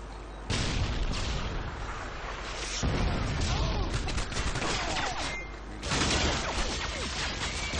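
Heavy gunfire from the video game Modern Warfare 2 rattles in dense bursts of rapid shots and booms, with brief pauses between volleys.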